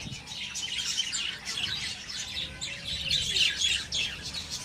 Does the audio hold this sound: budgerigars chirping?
yes